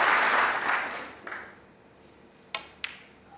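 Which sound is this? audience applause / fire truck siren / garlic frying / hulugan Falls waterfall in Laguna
audience applause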